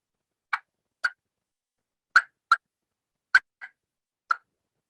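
Wild turkey calls outdoors during a fall hunt: seven short, sharp clucks and kiki notes spaced irregularly over a few seconds, each crisp and fairly close, with silence between them.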